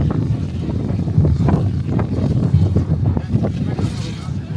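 Gusty wind buffets the microphone outdoors at a cycling race podium during the Tour of Mersin, a loud continuous low rumble with a voice talking over it.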